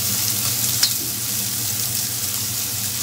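Garlic and vegetables sauté in a pan for chopsuey, giving a steady close sizzle that runs throughout, with one brief clink of a stirring utensil early on and no talking.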